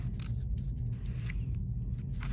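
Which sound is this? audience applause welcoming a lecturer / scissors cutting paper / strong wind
scissors cutting paper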